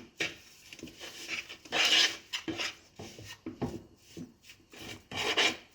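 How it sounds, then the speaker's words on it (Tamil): Sugar being mixed by hand through a bowl of flour for Tamil chittu urundai sweets, heard as a close, soft rasping rub in irregular strokes with brief pauses and no voices. "எல்லா மாவுலையும் சீனி படுற மாதிரி மிக்ஸ் பண்ணிக்கணும்."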